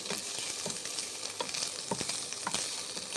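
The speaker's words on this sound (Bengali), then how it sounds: "ফ্রাই করে নিচ্ছি" Paneer pieces fry in a pan with a bright, steady hiss of hot oil and occasional soft scrapes and pops, close up and without any voices.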